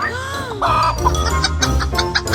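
A chicken clucking during a food challenge, heard as a few short, bright clucks and squawks close by, mixed with people laughing and talking over it.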